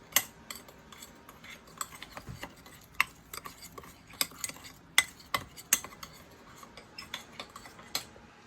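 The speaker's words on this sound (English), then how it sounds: "Now stir all the ingredients together until combined." Minced garlic, dried parsley flakes and a seasoning mixture stirred together with a utensil in a bowl, giving a series of light, irregular clinks and scrapes close by, with no talking.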